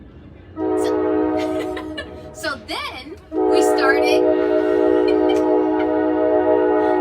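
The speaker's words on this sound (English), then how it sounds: "Sorry about the train. It's rush hour over here in New Jersey" A passing train at rush hour in New Jersey rumbles close by with a long, loud blaring horn that drops away and then returns. Someone talks over it.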